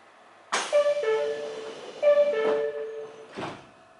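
On a Meitetsu Gamagori Line train running from Kira-Yoshida toward Gamagori Kyoteijo-mae, the sliding doors close with a sudden thump, a two-tone warning chime sounds twice, and a final soft knock follows, all heard close inside a quiet carriage.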